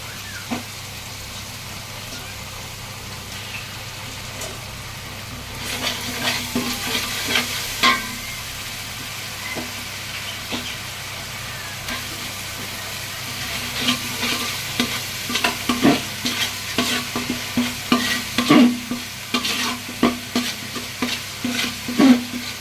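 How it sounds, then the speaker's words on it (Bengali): Ginger-garlic paste sizzles and fries in a pot, with a steady crackle and scraping stirring that grows busier toward the end. "এর মধ্যে আমি আদা রসুন বাটা দিচ্ছি"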